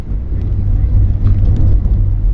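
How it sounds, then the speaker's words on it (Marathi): Inside a Tempo Traveller bus climbing a mountain road from Leh toward Pangong, the engine and tyres make a steady, close, low rumble with a faint whir, unbroken and without voices. "टेम्पो ट्रॅव्हलर्स या बसमधून आमचा हा प्रवास होतोय"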